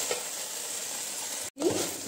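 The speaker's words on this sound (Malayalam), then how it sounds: "ഇങ്ങനെ ഒഴിച്ചിട്ട് നമ്മൾ നന്നായിട്ട് ഇളക്കി കൊടുക്കണം." Gobi manchurian sauce sizzles and hisses steadily in a hot pan while being stirred, with a brief cut in the middle before the frying resumes close and clear.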